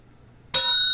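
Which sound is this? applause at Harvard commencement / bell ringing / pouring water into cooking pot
bell ringing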